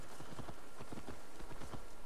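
A horse trots slowly through town in Assassin's Creed Valhalla, its hooves giving a steady, even clip-clop rhythm close by over a constant low background hum.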